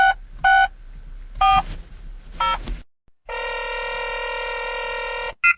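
A telephone dials a number with several short tone bursts, then a long steady ringback tone sounds and cuts off unanswered, close and without talk.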